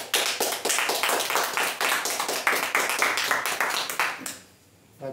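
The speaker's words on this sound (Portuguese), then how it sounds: "Aplauda o Senhor" A church congregation claps together in a quick, rhythmic series of close, sharp claps that stop abruptly near the end, followed by a brief quiet and a faint voice.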